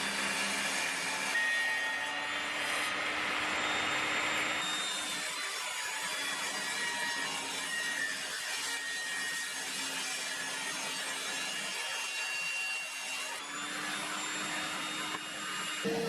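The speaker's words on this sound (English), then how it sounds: "moving over to the table saw, I can square the edges up and give them a clean up whilst I'm at it" Table saw squaring and cleaning up the edges of wooden boards for an antique-style finger-jointed box, a steady loud motor whine with the rougher rasp of blade cutting through wood, sustained for about sixteen seconds without talking.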